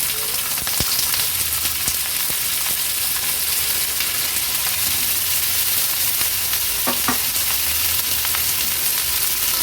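Potato pieces sizzle steadily in hot oil with green chillies, stirred now and then with soft scraping clicks, a continuous close frying hiss throughout.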